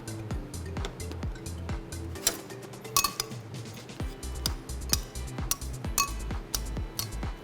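Vegetables tossed with salt and a tablespoon of olive oil in a bowl in a teaching kitchen, heard as steady clinks and light knocks of utensils against the bowl, moderately close with no talking.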